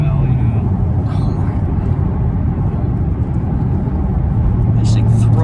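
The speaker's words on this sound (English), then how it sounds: "I'm so hooked that the mic is picking up the whine." A supercharged car with a centrifugal supercharger launches hard, its engine a loud, steady low rumble heard from inside the cabin with a faint whine on top.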